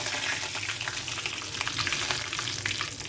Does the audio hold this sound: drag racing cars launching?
no